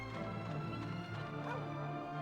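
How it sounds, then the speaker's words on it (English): A dog in the video game Dragon Quest 8 gives a short run of yips and whimpering barks, fairly faint and somewhat distant over a soft game background. "No, that's a dog."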